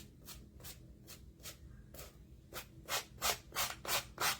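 A nail file rubs back and forth over the painted wooden edges of a shelf sitter, about a dozen rhythmic rasping strokes, close and growing louder and quicker toward the end.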